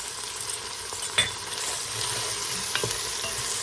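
Vegetables sauté in a pan seasoned with salt and black pepper, giving a steady, even hiss with a couple of faint utensil taps, close by and without talk.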